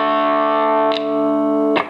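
An electric guitar plays through the dirty channel of a 2002 Fender Twin amp. One sustained, distorted chord rings out with string and pick noise partway through, then is struck again near the end. No one talks.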